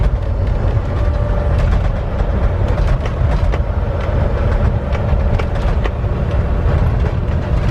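A 2019 Volvo VNL 760 truck with 448k miles on the road: a steady, loud, low engine and road rumble with faint rattles on top, continuous throughout and without talking.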